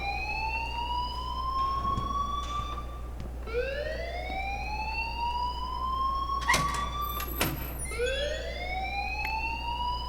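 Alarm from the Life is Strange video game, a wailing siren-like tone sweeping upward again and again in long repeating cycles, loud and steady, with a couple of sharp clatters partway through.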